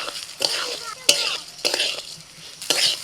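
Gobindobhog rice is stirred in hot ghee with bay leaves, cardamom, cinnamon and cloves for basanti pulao, giving a loud frying sizzle broken by several scraping stirs of a spatula in the pan.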